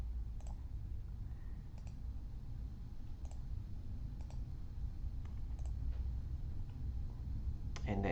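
A computer mouse clicks while a network communicator is being configured in setup software, producing crisp, isolated clicks spaced roughly a second apart over a low, steady background hum.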